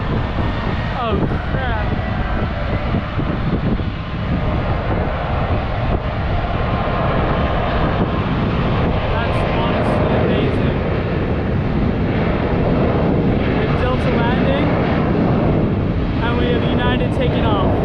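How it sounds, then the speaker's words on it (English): A Delta airliner arrives at Phoenix Sky Harbor airport in extreme summer heat, its steady, loud engine roar running the whole time, with a person talking over it close by. "So we have Delta coming in right now."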